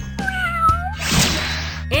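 A cat summon named No Legs in the video game Epic Battle Fantasy 4 lets out a couple of clear, close meows, with a bright burst of game effects between them.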